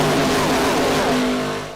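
A lead pack of IROC race cars roars past at Daytona, a loud, sustained engine drone with rising and falling pitch as the cars sweep by close together.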